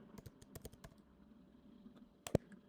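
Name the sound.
typing on a computer keyboard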